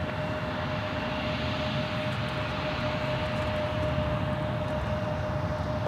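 A Delta airliner takes off from runway 17 at Minneapolis–Saint Paul airport, a continuous broad engine roar holding steady throughout with a faint constant tone, fairly distant and without voices.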